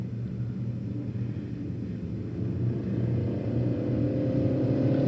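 Race cars roar down the front stretch at a track, a broad low rumble building steadily in loudness as the pack approaches, with no voices.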